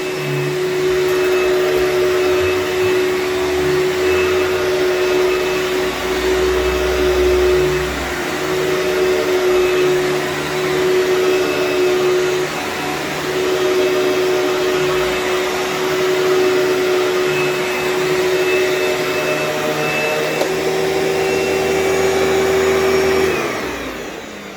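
A Panasonic MC-V5248 Performance Plus Platinum upright vacuum cleaner runs steadily with a loud, constant motor drone and high whine that hold for the whole stretch, with no talking.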